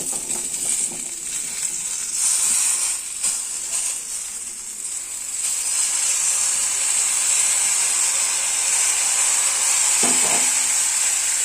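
Jujubes hit hot spiced oil for a pickle, setting off a steady, bright sizzle that swells and holds, with faint stirring scrapes and no talking.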